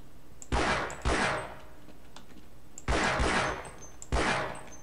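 Gunshots fired at turrets in the video game Half-Life, four sharp reports in two pairs, each trailing off with a short echo over a steady low background hum.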